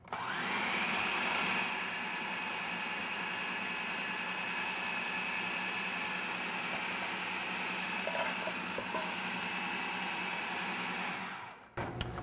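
A food processor runs steadily at high speed, blending soaked cashews into a thick cashew cheese. The motor whirs loud and even for about eleven seconds, then cuts off, leaving a few faint clunks at the end.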